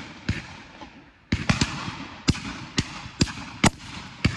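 Shotguns firing at a pheasant shoot on Exmoor, heard as a string of about ten sharp, loud cracks at irregular intervals, some nearer and some more distant, each fading quickly into open-air background noise.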